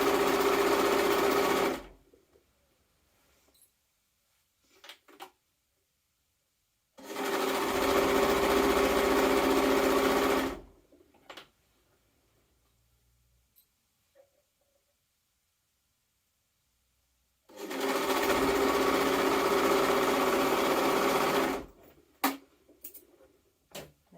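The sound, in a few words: sewing machine stitching a jumpsuit seam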